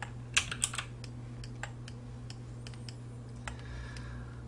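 Someone types on a computer keyboard while working in SketchUp, pressing Alt+Q: a quick close cluster of clicks, then sparse single key taps over a low electrical hum.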